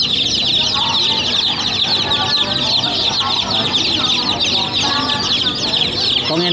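Thai Duong chickens clucking and crowing in a dense, continuous flock chorus at a rural market in Ben Tre, loud and close throughout with busy market noise beneath.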